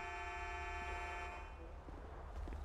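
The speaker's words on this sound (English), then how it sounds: "that might be him honking right there" Car horn honking in Grand Theft Auto 5, a sustained tonal blare that fades after about a second and a half, leaving low rumbling game ambience and faint scattered noises.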